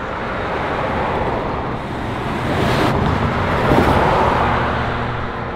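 An all-original 1959 Oldsmobile 98 Rocket on the road, with a loud, continuous broadband rumble of engine and road noise that swells slightly as it drives along, with no speech over it.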